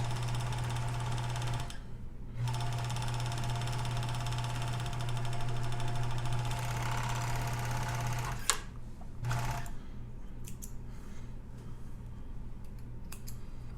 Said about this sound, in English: you're going to push the fabric under the presser foot up close to the needle, and it's going to be, the cut edge is going to be even with your knife edge